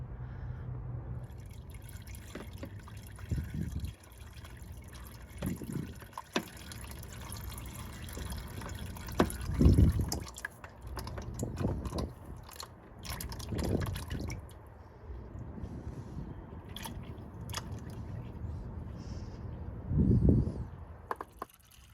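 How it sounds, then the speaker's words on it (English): Transmission fluid drains from the ZF 8-speed automatic gearbox of a Jaguar F-Type, a low, steady trickle and spatter into a pan with occasional louder splashes and drips, fairly quiet and continuous. "loosen the drain plug and drain out your transmission fluid"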